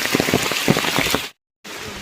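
Heavy rain pours onto the forest trail of the traditional Sabarimala pilgrimage route between Erumeli and Mukkuzhi in December, making a dense, loud, continuous hiss with close patters of drops, cut off by a brief silent gap before resuming.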